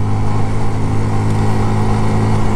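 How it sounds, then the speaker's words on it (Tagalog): Honda CRF 150L motorcycle pulling up a hill, its engine droning loud and close in a steady, unbroken labouring note throughout. "Gaya ng motor na to, ang lakas sa ahon."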